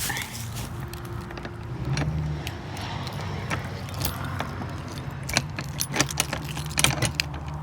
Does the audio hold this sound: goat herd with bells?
no